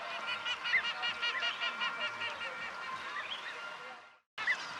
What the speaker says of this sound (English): Andaman Teal is a small brown duck with a pale throat and scalloped